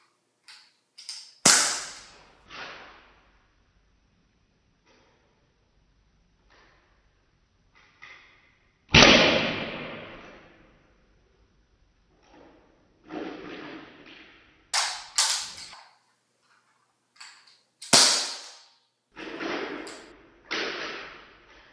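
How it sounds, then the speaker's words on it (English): An airsoft gun fires .20 and .25 gram BBs into a block of ballistics gel, giving a series of sharp, separate snapping impacts and thuds spaced irregularly with quiet gaps in between. "I'll be shooting two different weights of BBs"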